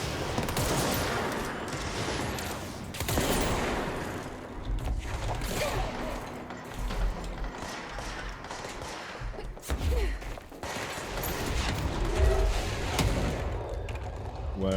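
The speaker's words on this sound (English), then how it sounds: "people shooting." Rapid bursts of gunfire from people shooting in the video game Control rattle through a long stretch, with automatic volleys, mechanical clanks and occasional thuds at moderate loudness and faint voices in the mix.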